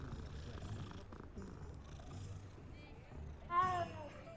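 A petted cat in the Hogwarts Legacy game purrs in a soft low rumble under quiet game sounds, ending with a short higher cat vocalization.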